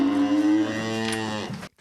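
A single cow in a barn lets out one long, loud moo that falls in pitch and then cuts off, close by with no other sounds.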